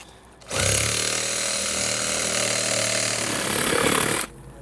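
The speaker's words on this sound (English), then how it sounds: "Using a reciprocating saw, I begin cutting that hole in the roof." A reciprocating saw cuts a hole through a house roof for a tubular skylight, running loud and close for several seconds with a steady buzzing roar, then stopping abruptly.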